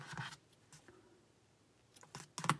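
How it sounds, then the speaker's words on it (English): Scissors snip through crochet yarn while finishing a small four-leaf clover, a few quiet, short cuts and rustles close by with near silence between them. "we're going to cut the yarn"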